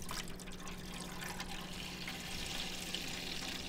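Whole milk, a full gallon, poured gently into a container for gelato, giving a steady liquid gush and splash that runs continuously and fairly close without any talk.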